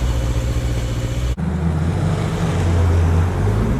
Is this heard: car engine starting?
yes